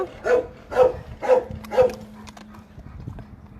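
A medium-sized adult mongrel dog gives four evenly spaced barks at close range, each sharp and loud, followed by softer shuffling and faint background noise.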